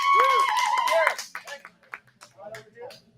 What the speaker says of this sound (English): Awesome, give Jerry a huge round of applause